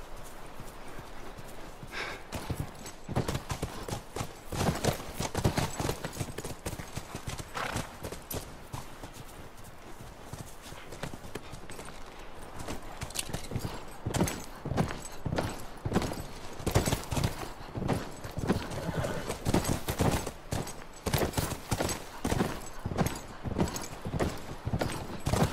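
Hooves clip-clop in a fast, continuous trotting rhythm in The Last of Us Remastered video game, loud and close, over a steady outdoor background.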